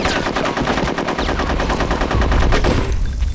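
Rapid automatic gunfire from the video game Conker's Bad Fur Day, loud and close, sustained bursts of evenly spaced shots for several seconds without talk.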